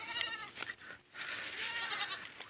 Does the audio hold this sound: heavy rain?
no